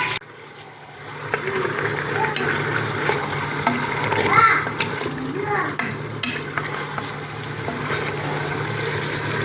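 Garlic frying in hot oil while cooking traditional Kabyle couscous, a continuous close sizzle with a few stirring knocks and scrapes, one brief louder swell midway, no talking.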